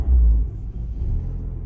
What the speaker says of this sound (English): car starts, engine's very smooth, idling just fine